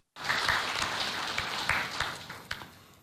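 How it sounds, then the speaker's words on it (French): An audience at a national consumer council meeting breaks into applause, a burst of many hands clapping that starts abruptly and slowly thins out, with a few sharper claps near the end. "Nos applaudissements pour cet exercice."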